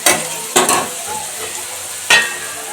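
Potatoes and lettuce are stir-fried in a pan Bengali style, with a continuous sizzle broken by a few sharp spatula scrapes and knocks against the metal.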